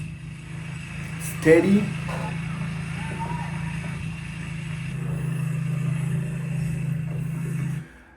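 Toyota Land Cruiser Prado J250 crawling over off-road test terrain, its engine a steady low drone that swells slightly toward the end, with a brief clunk early on and a short spoken word over it.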